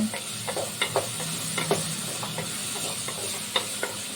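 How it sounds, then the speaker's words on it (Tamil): Something sautéing in a pan for a curry hisses in a steady close sizzle, with scattered clicks and ticks of stirring and a low hum underneath, no voices. "நல்லா வதங்குது"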